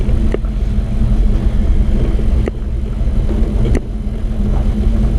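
A car rolling down the road toward Buenos Aires, its steady engine and road rumble filling the whole stretch, with a few brief knocks breaking the drone; no one speaks.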